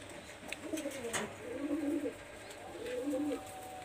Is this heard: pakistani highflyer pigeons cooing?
yes